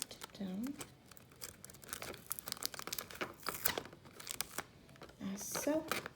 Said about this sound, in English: We are going to grab the tape and